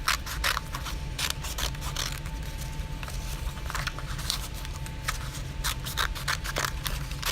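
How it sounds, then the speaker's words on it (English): Scissors cut through a stack of brown paper layers to shape triangles, making crisp close snips in an irregular rhythm over a low background hum, with no talking. "Put all my brown papers together and cut these 3 triangles together."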